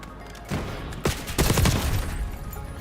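Pistol gunfire in an online multiplayer shooter game, a rapid volley of loud, close shots bunched in the middle of the clip amid game sound, with no talk over it.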